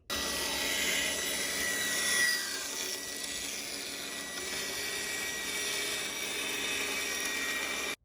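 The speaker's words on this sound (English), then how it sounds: "Now we have to go in with the table saw and do it right." A table saw trims the edges of a wooden farmhouse-style wall shelf, giving a steady, sustained whine and rumble of the blade through the wood that holds at an even level for several seconds.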